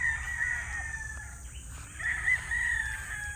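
A young stag rooster crows on a farm, a strained crow rising and holding twice over a low steady rumble of background noise, fairly close with no talking.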